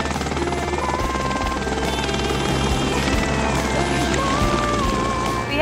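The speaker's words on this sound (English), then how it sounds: "the helicopter is scaring you" A helicopter flies close by, its steady rotor chop and engine whine loud and continuous throughout, with a faint tonal whistle rising and falling on top.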